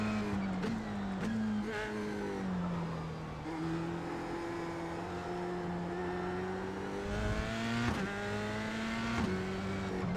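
A Formula 3 race car engine in the iRacing simulator drones steadily and fairly quietly, its pitch rising and dropping with shifts and throttle changes through corners, no voices over it.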